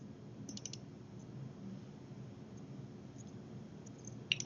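A computer mouse double-clicking in Advance Design America bridge design software: a quick pair of close, light clicks near the start and another click near the end, over quiet room noise.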